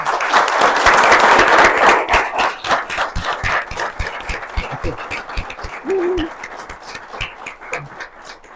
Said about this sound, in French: Je crois que nous pouvons nous donner une bonne main d'applaudissements.